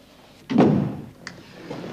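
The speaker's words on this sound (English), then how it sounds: "Close the door." A door closes with a loud, near thud just before the midpoint, then a fainter knock or latch click follows, against quiet room tone without talk.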